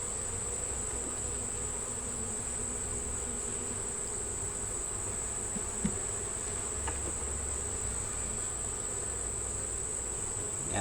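Honey bees buzz around an open hive, a steady dense drone of many insects with a constant high whine above, moderately quiet and continuous with no talking.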